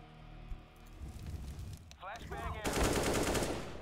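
Gunfire in the video game Counter-Strike: Global Offensive, with bursts of rapid shots and loud broadband crackle that swells into a dense volley near the end, mixed with game sounds and chirping effects.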